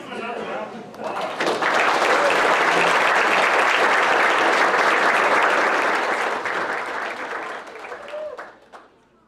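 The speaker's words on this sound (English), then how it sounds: "Let's give them another round of applause." A room at a board meeting breaking into applause, dense clapping that swells within a second, holds steady for several seconds, then tapers off, with voices around it.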